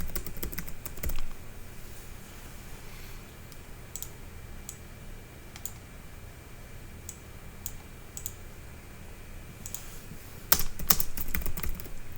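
Key taps on a computer keyboard while a note is written in software, sparse and irregular, close by over a quiet room hum, ending in a denser cluster of clicks.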